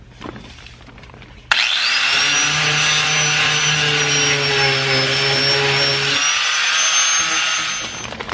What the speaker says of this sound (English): use an angle grinder with a flapper disc on here, and I'm gonna clean up the edge all over here